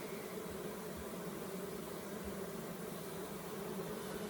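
A healthy honeybee swarm housed in a horizontal hive in a forestry setting gives off a faint, steady buzzing hum that continues without pause, with no voices.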